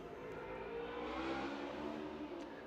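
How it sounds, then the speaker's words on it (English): A loud motorbike roars past, its engine a steady, droning rumble that swells slightly in the middle and stays constant throughout, with no talking. "That's a loud motorbike."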